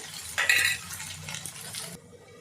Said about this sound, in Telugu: టమాటా బాగా వేగనిద్దామండి ఆలుతో పాటు